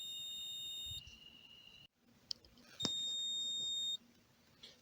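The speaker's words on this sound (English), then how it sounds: "It's beeping at me because I have it set to beep at me when it's not recording." Tailgater mirror dash cam beeping because it is not recording: two steady electronic tones, one near the start and another about two seconds long later, with faint room noise and small clicks between them.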